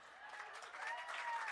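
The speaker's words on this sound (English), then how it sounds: "go ahead, clap it up" Audience applauding at a Walk of Fame ceremony, brief steady clapping from a crowd that grows slightly louder, heard faintly at a distance.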